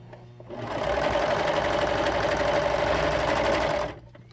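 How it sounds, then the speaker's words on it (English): A serger stitching along the edge of a cloth face mask, a loud, fast, even mechanical whir that starts abruptly, runs steadily for about three seconds, then stops. "But I'm going to serge it because it's easier"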